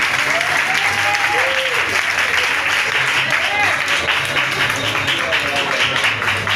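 A church congregation applauds to acclaim the Lord, a loud, steady wash of clapping that fills the room without pause, with voices calling out over it.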